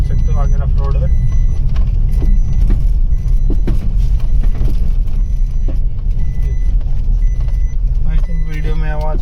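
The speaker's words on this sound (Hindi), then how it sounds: "ये देखो कुछ इस तरह की आ रही है, जैसे कुछ बैठ रहा हो नीचे सस्पेंशन में या फिर कुछ कटा हुआ है।" A Maruti WagonR BS6 rolls over a rough road, its suspension giving repeated knocks and thuds beneath a constant engine and cabin rumble, while someone talks over it.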